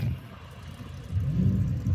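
An orange GT car goes past at a race circuit during an American car event, a low engine rumble swelling briefly as it passes at moderate distance.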